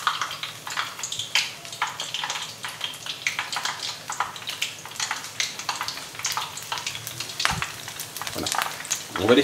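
Onion fritters fry in hot oil with a steady dense crackle and sizzle, occasional stirring clinks and scrapes, close and continuous.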